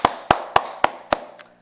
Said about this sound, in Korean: 우리 하나님께 큰 영광의 박수 올려드립니다